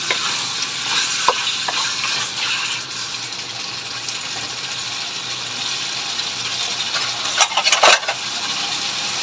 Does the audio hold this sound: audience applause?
no